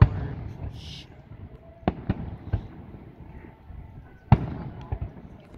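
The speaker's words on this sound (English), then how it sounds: "You gonna be seeing fireworks." Fourth of July fireworks bursting at a distance, several sharp cracks and booms spaced irregularly over a few seconds, with background crackle and people talking nearby.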